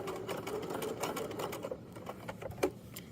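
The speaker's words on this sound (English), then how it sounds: "we'll go ahead and sew this. And then I'll sew to the end and back stitch." A sewing machine stitches fabric to the end and then back stitches, a fairly faint, steady mechanical chatter of fast needle strokes with a small knock near the end.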